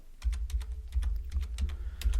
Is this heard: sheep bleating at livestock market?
no